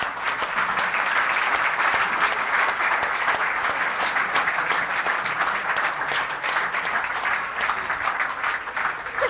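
A church congregation at a Friday sermon claps loudly and steadily, a dense sustained wash of applause filling the room from start to finish with no break.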